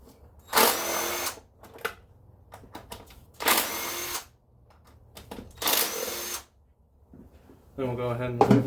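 Power tool whirring in three long bursts on 10 mm bolts of a 1995 Camaro intake manifold, with short clicks and knocks between, up close, and a voice at the end.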